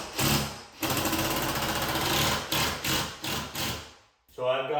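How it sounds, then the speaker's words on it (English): Power drill drives a screw at a steep angle into a wall stud during an Ikea kitchen cabinet rail installation, loud rapid buzzing whir in several bursts of varying length, then a brief pause and a short final run. "So now for the screw, I still need to go at a pretty steep angle to make sure I hit it."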